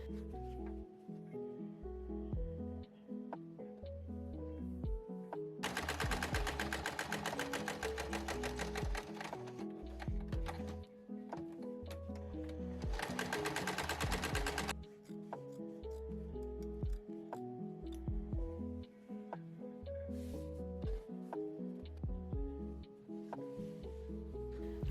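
A home sewing machine stitches shirt cuffs with interfacing, running in two sustained rapid bursts of dense needle clatter, separated and surrounded by quieter handling and rubbing of fabric.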